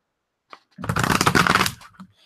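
A deck of Shakespearean tarot cards is shuffled close up in one quick riffle lasting about a second, bracketed by light handling taps before and after.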